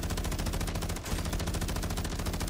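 Sustained automatic fire from a loadout weapon on Rebirth Island, a fast, even rattle of shots continuing almost without pause, loud and close throughout.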